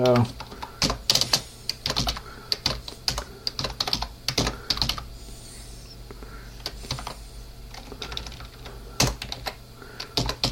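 Someone types a command on a computer keyboard, with quick clusters of crisp, close key clicks and taps across the stretch. Bursts come faster at the start and thin out toward the middle before picking up again.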